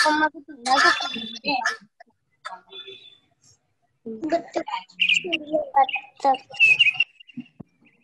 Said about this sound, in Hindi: चिड़िया